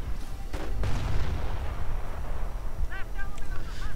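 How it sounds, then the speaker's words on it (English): Artillery fire in a World War II strategy game battle, with Calliope rockets, Priest and Hummel guns firing: a dense, continuous rumble of booms and blasts, with a few whistling shell sounds near the end. "this is just going to turn into an artillery fest"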